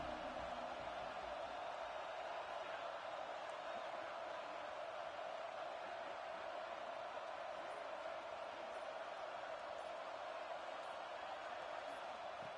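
A college football stadium crowd at an Alabama versus Oklahoma game makes a steady, distant roar, an even wash of noise with no clear peaks throughout.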